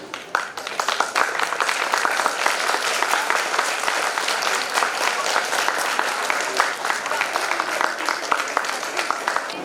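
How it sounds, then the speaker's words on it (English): Sustained audience applause fills a Model United Nations ceremony hall, dense steady clapping from a large crowd lasting throughout without a break. "The applause shouldn't stop."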